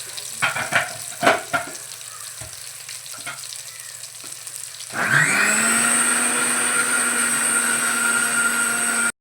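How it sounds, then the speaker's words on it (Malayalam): A few scattered clinks and taps, then a mixer grinder whirs up loud and steady, crushing coconut with chili, coriander and turmeric powder for a fish curry masala, its whine holding evenly to the end. "തേങ്ങ ചതച്ചെടുത്ത് അതിൽ മുളക് പൊടി, മല്ലിപ്പൊടി, മഞ്ഞൾപ്പൊടി ഇട്ട് നമുക്ക് അരച്ചെടുത്ത് വരാം"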